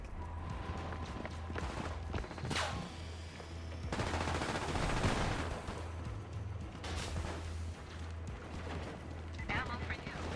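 Live-round gunfire in a video game playtest, with bursts of shots and rattling volleys over a steady low hum, closer and louder in the middle stretch, and a voice speaking at times.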